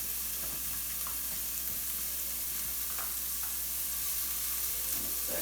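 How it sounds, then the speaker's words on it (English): Onions, peppers and garlic sauté in a pan with a steady, close sizzle. Faint scrapes and a few light clicks of stirring sit over the constant frying hiss. "Saute the onions and peppers. Let's add in this garlic."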